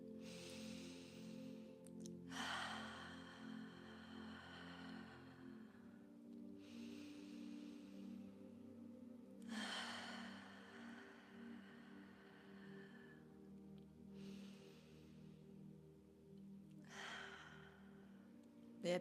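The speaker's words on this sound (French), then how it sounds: "commence à expirer par la bouche avec un léger son" Slow, soft exhales through the mouth with a gentle 'ah' tone come roughly every four seconds during a relaxation meditation. The breaths are quiet and close over a low, steady musical drone.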